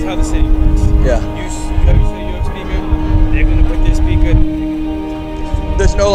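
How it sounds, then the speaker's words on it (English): Steady road traffic rumbles along a New York City street, with engines droning and passing cars swelling and fading, while people talk nearby. "it's noisy with the cars"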